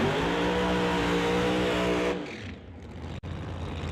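A 57 Chevy drag car roars at full throttle down the strip, a loud, steady high-revving engine note that cuts off abruptly after two seconds and leaves fainter track noise behind, with no voices.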